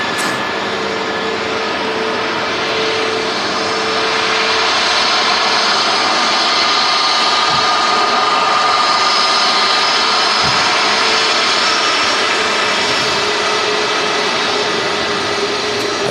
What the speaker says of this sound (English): Another beautiful A320 Neo, also from Turkey. This is in from Dalaman.